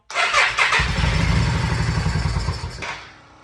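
A motorcycle engine that earlier backfired because its coils were wired backwards is cranked loud and close. It catches into a rough, rapid running rumble that lasts a few seconds before fading out.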